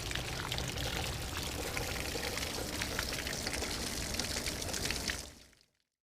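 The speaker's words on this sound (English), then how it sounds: "the water does come out a lot faster if you flip your pressure leak open" Water gushes out of the drain of a Coachmen 21QB motorhome's water heater in a steady, close, splashing pour that runs evenly for about five seconds and then quickly tapers off to silence.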